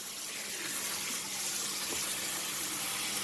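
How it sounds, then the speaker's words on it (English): Cold tap water pours steadily over cooked spaghetti in a drainer in a home kitchen, a continuous close hiss and splash that runs unbroken for a few seconds with no talk. "now we're rinsing the spaghetti with the cold water"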